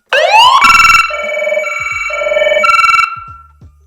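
A loud electronic fire truck siren on a converted RV wails and warbles with rising and falling tones, shifting between patterns for about three seconds before cutting off.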